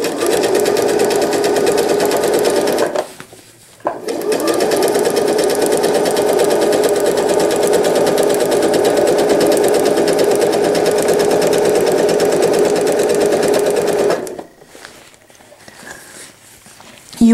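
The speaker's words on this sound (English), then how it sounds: "You want to sew so that when the machine hits the left stitch, it's as close to the edge of the pull as possible." Sewing machine stitching a fabric pail liner, running steadily and loud for about three seconds, pausing briefly, then humming on continuously for ten more seconds before stopping.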